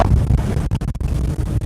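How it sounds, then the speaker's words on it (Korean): Loud wind buffets the microphone in a continuous low roar on a fishing boat in the West Sea, briefly dropping out in a few quick gaps before surging back. "지금 바람 소리 많이 들리죠?"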